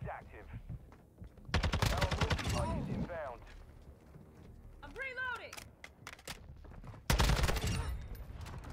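Rapid bursts of TAQ-56 rifle fire in Modern Warfare 2, two dense volleys with quieter game sounds and some talk in between, then a sharp loud burst at the end.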